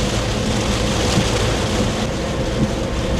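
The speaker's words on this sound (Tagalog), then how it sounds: "tuloy-tuloy na ulan na may kasamang pabugso-bugsong hangin ng nararanasan ngayon ng taga Zambales" Heavy continuous rain with gusty wind in Zambales, a dense, loud, unbroken roar of falling water and wind noise, with no talking.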